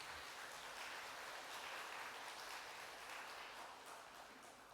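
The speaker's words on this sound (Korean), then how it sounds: "잠시 자리에서 일어나시면 박수로 환영하도록 하겠습니다." Church congregation clapping in welcome during a worship service, a dense, even patter of applause that holds steady, heard from a distance and fading slightly at the end.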